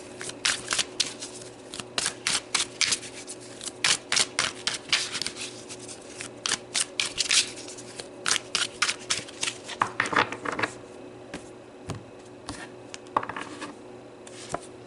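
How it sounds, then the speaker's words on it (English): Cards being shuffled and pulled from a deck during a rune and card reading, with a steady run of crisp riffling and snapping bursts at moderate loudness, no talking. "let's pull some more cards"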